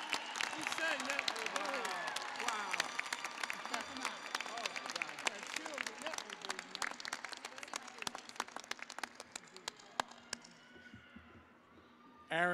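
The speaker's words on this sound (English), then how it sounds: "Another round of applause for these guys, ladies and gentlemen" Applause from a commencement ceremony crowd, a fairly distant wash of many hands clapping with sharp individual claps on top, a voice briefly heard early, fading toward the end before a sudden loud burst.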